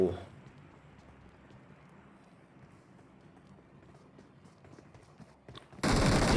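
Gunfire in PUBG Mobile comes as quick, faint bursts of shots under a busy game soundscape, ending with a sudden loud blast of noise.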